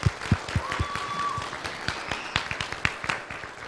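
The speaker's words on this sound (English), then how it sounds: "So let's give her a round of applause." A small church congregation claps during Sunday worship, with sparse, uneven hand claps rather than a dense roar, close and fairly loud, fading out within a few seconds.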